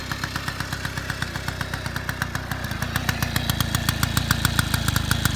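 A 1983 Honda Express moped engine runs steadily and close by, its rapid single-cylinder putter holding an even rhythm that grows slightly louder toward the end, with no one talking.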